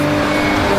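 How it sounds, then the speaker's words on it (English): A Maserati Ghibli S Q4 with its twin-turbo engine in sport mode and the exhaust valve open gives a loud, steady, rich exhaust drone, heard alone with no talk. "It also opens up a valve in the exhaust, making that sweet, sweet sound even sweeter."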